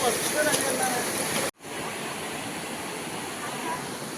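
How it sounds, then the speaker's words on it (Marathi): Steady hiss of rain falling outdoors while crab fishing, with a brief cut to near silence partway through before the broadband patter resumes. "होय पाऊस पडायला लागला ढग बघ एवढा आलाय तो"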